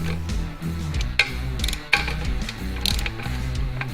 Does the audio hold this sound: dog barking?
no